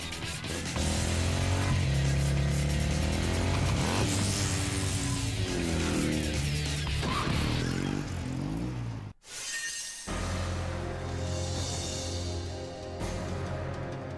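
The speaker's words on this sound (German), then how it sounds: "Das ist zwar eigentlich ein Motorrad, aber egal." A motorcycle engine in Devil May Cry 2 drones loud and steady, its pitch rising and falling as it revs, broken by a brief cutout before it resumes.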